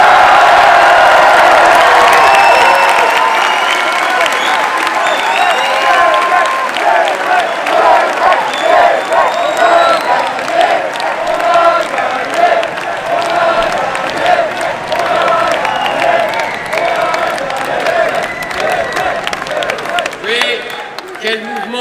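A large crowd at a political rally for Eric Zemmour in Paris applauds and cheers loudly and continuously, with whoops rising from the dense clapping.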